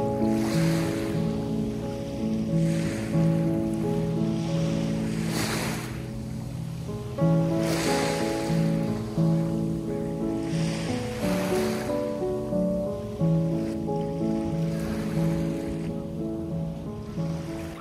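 Calm ocean waves at the sea, a steady wash of surf that swells and breaks every few seconds, fairly close and continuous, with no voices.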